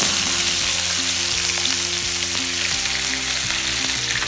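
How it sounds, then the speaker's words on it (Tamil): Onions sautéing in hot oil with fenugreek seeds, mustard seeds, curry leaves and green chilli for a pomfret fish kuzhambu, a steady loud sizzle throughout with occasional stirring scrapes, no talking. "வெங்காயம் சிவக்க வதக்கவும்"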